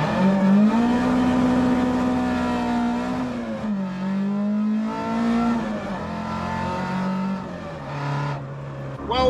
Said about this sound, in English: I'm going to jump in Maude, my Maude Mk2 Escort, and head over to my other garage